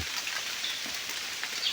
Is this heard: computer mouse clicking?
no